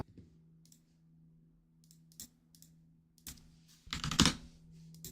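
Typing on a computer keyboard during music production work: sparse, close key clicks separated by pauses, ending in a brief flurry of quicker keystrokes over a faint steady hum.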